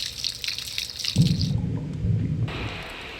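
Dungeon-level water effects: splashing and running water, first a thin bright trickle, then a heavier, fuller gush with drips, all fairly close and without voices.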